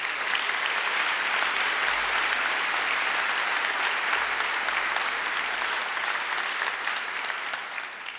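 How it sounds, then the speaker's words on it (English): A large graduation ceremony audience applauds a singer, a steady, dense wash of clapping throughout the hall that holds evenly for about eight seconds at a moderate distance, with no voices on top. "I think she deserves another great round of applause."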